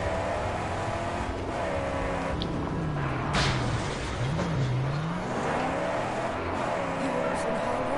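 A small car's engine in the Mad Max video game, revving and straining as it climbs a hill, a continuous loud drone with rising and falling pitch, while someone talks over it.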